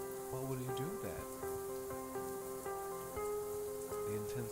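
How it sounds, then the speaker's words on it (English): Heavy rain pours steadily throughout, a dense wash of noise under sustained music tones. "The intense rain drowned out all the other sounds."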